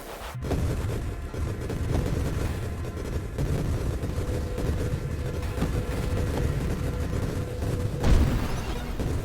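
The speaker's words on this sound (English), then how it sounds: "It's gonna be a lot of explosions." Continuous rumbling blasts and booming explosions from the game Nova Drift, dense and loud throughout with a sharp hit near the start and another swell toward the end.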